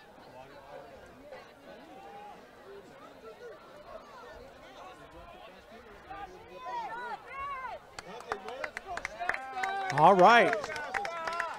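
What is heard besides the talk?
crowd noise at a high school football game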